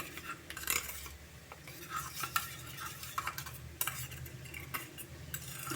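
A spoon scrapes and clinks in a bowl while ground coriander and cumin are stirred with a little water into a spice paste; soft, irregular scraping and light taps, close and quiet.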